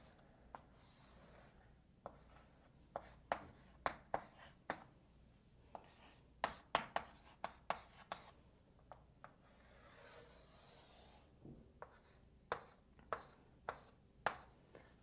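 A pen writes and draws on paper while working a calculus problem, giving soft, close scratchy strokes and taps in an irregular rhythm against quiet background hiss, with no voice.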